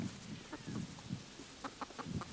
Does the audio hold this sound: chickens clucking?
yes